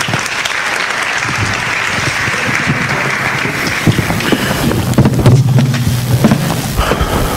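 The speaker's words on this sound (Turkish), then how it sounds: "Sıradaki sunucumuz, alkışlarınızla Sayın Mehtap Akdeniz." Steady crowd applause fills a hall at a PechaKucha Night in Istanbul, a broad even roar of many hands that runs throughout, with a few louder bursts and low rumbles toward the end.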